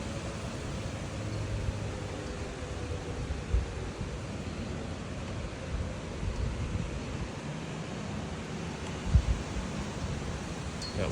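Wind gusting through a night tornado storm, a steady broad rushing roar with buffeting against the microphone and a couple of brief thumps.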